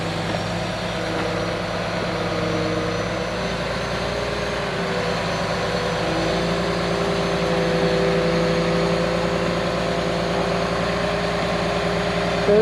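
John Deere 850J dozer engine working as it rips into gravel, a steady loud diesel drone with a sustained tonal whine, holding constant throughout with no talking.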